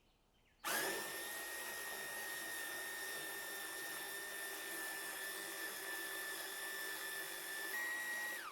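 A food processor starts abruptly and whirs continuously at high speed, chopping spring onion, coriander, chilies and salt, loud and close with a steady motor whine to the end.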